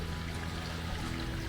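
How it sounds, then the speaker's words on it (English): Small waterfall tumbling over rocks in a creek, a steady broadband rush of falling water close by, continuous and even throughout, with no voices. "a little waterfall here"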